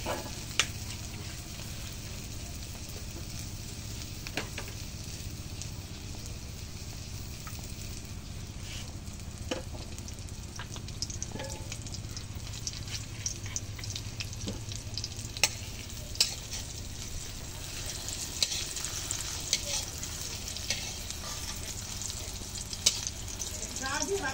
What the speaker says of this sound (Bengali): ডিমটা এখন একটু উল্টাই দিই আবার একটু তেল দিই